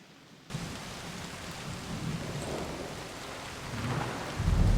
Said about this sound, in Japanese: すごい雨降っちゃってるからね。